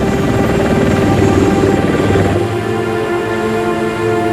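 A helicopter picking up speed drones loudly and steadily close by, its rotor and engine making a dense, continuous rumble with a shift in pitch partway through.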